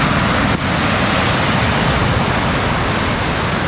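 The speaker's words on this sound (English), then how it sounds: "Lots of waves out today in the ocean." Ocean surf breaking along a coast below a fort, a loud, dense, steady roar of waves heard alone, with wind rushing across the microphone.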